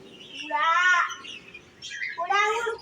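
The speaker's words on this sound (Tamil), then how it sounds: "இது லவ் பேர்ட்ஸ்." Lovebirds at a church in Tenkasi give two bursts of bright, close, warbling chirps, separated by a short pause.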